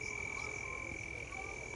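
Frogs croaking steadily at a reservoir in Busan, South Korea, a dense continuous chorus with a sustained high-pitched trill, moderately loud and constant throughout with no talking.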